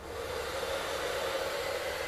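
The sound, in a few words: hair dryer blowing on wood glaze coat finish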